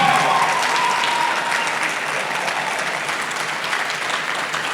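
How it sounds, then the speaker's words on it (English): An audience at a leadership dialogue event in Abuja stands and applauds, a dense, steady wave of clapping that stays loud throughout with no voices standing out. "please stand up and just clap for the Vice President one more time."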